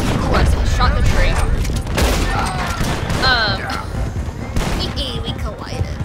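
Rapid gunfire rings out in a Red Dead Redemption 2 shootout, with loud shots in dense bursts and volleys across the clip. Voices shout over the firing and it tapers toward the end.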